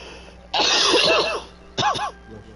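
A person coughs close to the microphone, one harsh extended burst of several coughs followed by a second shorter bout, alone with no talking.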